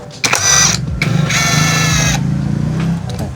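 Impact driver loosening a brake caliper bolt on a Triumph Trident 660 motorcycle: a loud, close whirring buzz that runs almost nonstop, with a few brief breaks in the rattle, and no talk.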